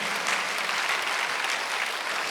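A congregation at a Sunday church service bursts into thick, continuous applause, loud and evenly sustained throughout.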